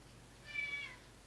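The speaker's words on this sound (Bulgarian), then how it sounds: "Едно високо мяо." A cat gives a single high, faint meow lasting under a second against quiet background noise.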